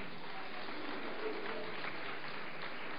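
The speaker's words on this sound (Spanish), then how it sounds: "Dele un aplauso al Rey de la Paz" A church congregation applauds, a dense, even wash of many hands clapping at moderate distance, steady and unbroken for a few seconds with no distinct individual claps standing out.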